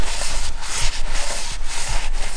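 An LS engine valve seat being cleaned produces a loud, close scrubbing rasp in rhythmic strokes, roughly two per second, with no speech.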